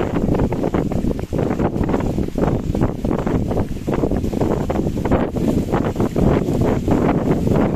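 Strong wind at a coastal promenade buffets the microphone without pause, a loud continuous rumbling roar with gusty surges throughout.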